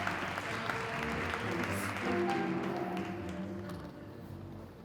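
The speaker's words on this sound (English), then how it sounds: "big round of applause" An audience at the Future Cities Canada Summit claps to welcome a speaker to the stage. The fairly quiet, continuous applause sits over a low hum and fades slightly at the close.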